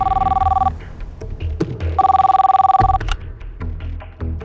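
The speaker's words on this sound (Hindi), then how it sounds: "30 जुलाई को सुबह फ़ोन आया था।" Telephone ringing indoors in the morning, two loud electronic ring bursts separated by a pause, with clicks and handling noises between them and no talking.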